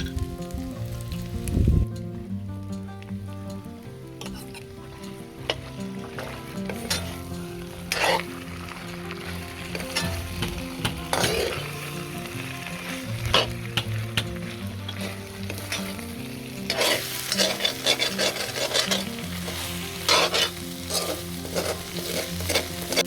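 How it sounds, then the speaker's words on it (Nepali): Masala ground on a silauta grinding stone sizzles and fries in a hot kadai with garlic and ginger for a local chicken bhutan, steady close frying with frequent spoon-stirring scrapes and clinks throughout. "अब हामीले अघि सिलौटामा पिसेको मसला राख्नु लाग्यो"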